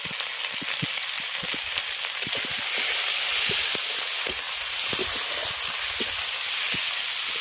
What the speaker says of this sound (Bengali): মশলাটাকে ভালো করে ভেজে নিলাম